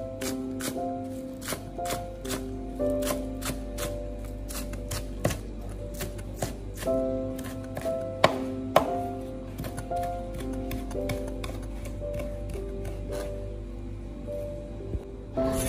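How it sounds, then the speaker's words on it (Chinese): Knife rapidly chopping scallions into small pieces on a cutting board, a steady, close run of crisp taps that continues alone without any talk. "将小葱切成葱花"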